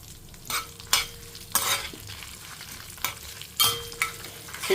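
Curry leaves and asafoetida fry in hot oil for a Telugu pulla attu meal, giving a close, steady sizzle broken by several sharp crackling bursts as the leaves hit and are stirred, with no one talking.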